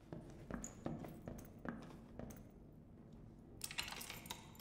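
Sharp, evenly spaced footstep clicks sound in the game Dark and Darker, a few hard taps echoing, followed by a brief metallic clatter near the end.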